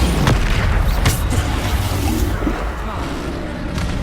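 Booming blasts from the Bombarda explosion spell in Hogwarts Legacy, with a few sharp impacts over a dense, rumbling game soundscape.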